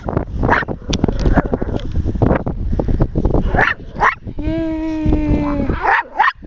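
A sled dog barks and yips loudly and repeatedly at close range in a snowy yard, with one longer drawn-out howl-like whine near the end.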